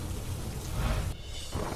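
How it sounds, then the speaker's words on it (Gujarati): Heavy monsoon rain pours onto the streets of Tharad, a dense, steady hiss of downpour that holds close and loud throughout with no break. "થરાદમાં ધોધમાર વરસાદ પડતા રસ્તા પર ભરાયા પાણી"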